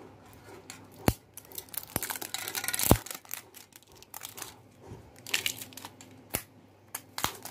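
Plastic packaging on a new bottle of chain lube crinkles and tears in short, sharp rips and crackles, close by and fairly quiet, with no talking.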